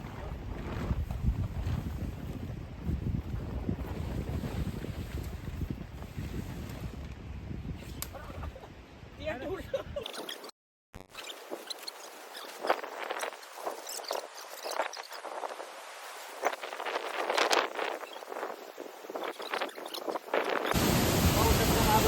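A large waterfall at a jungle campsite roars with steady, dense rushing water, a heavy low rumble at first, then after a brief cut a thinner, hissing spray; no one speaks.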